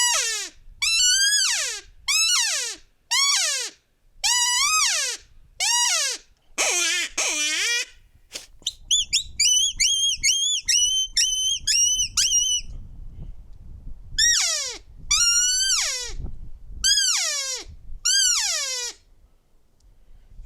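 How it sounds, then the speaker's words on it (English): Custom open-reed elk call blown in a long series of loud, close bugles and chirps, sliding high whistles with raspy edges, some rapid squealing runs, alone with no talking. "So this is the elk call."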